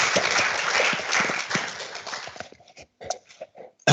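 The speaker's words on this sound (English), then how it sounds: "just a quick round of applause for our panelists and moderators" An audience at a Web3 entrepreneurship panel claps in a burst of applause that thins out into a few scattered claps before stopping.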